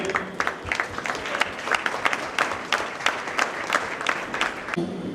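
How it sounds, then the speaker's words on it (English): An audience at a stage event applauds the dignitaries present, a continuous patter of many hands clapping at moderate loudness with uneven bursts throughout. "I request all of you to give a round of applause for all our dignitaries present here"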